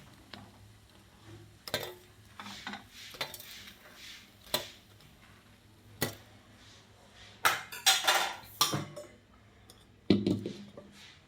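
A spoon lifts appe, rice and mixed-lentil dumplings, out of an appe pan, giving sharp metallic clinks and scrapes at irregular intervals, some close and loud, with quiet pauses between them.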